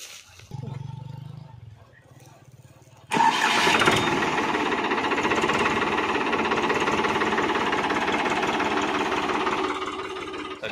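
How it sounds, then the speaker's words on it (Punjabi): A modified 1993 Ford 3600 tractor engine cranks briefly, then catches and settles into a loud, steady close running clatter that continues for several seconds, with no talking. "ਲਓ ਤੁਹਾਨੂੰ ਸਟਾਰਟਿੰਗ ਦੀ ਆਵਾਜ਼ ਵਿਖਾਉਂਦੇ ਹਾਂ ਜੀ"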